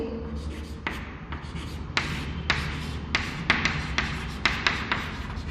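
Writing on a board during a class 9 physics lesson, heard as a close series of short, scratchy strokes and light taps at an uneven pace in a quiet room.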